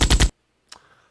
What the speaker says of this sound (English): Player shooting. This is the gunshot sound.